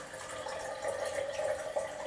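Water pours steadily from a Brita pitcher into a water bottle, a continuous close-up trickle and fill with no talking.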